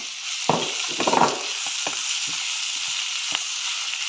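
Garlic, shallots, chillies and cumin stirred in a pan for a Kerala-style pepper chicken curry make a soft, constant sizzling hiss, broken by light scraping clicks from the spoon at uneven intervals.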